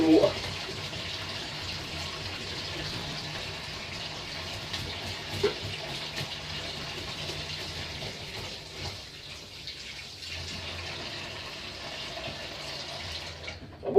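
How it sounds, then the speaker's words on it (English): A fresh seabass bought at Billingsgate Market is scaled under water in a kitchen sink, with a steady flow of running water and faint scraping underneath, and someone talking over it. "I'm going to scale the fish in the water."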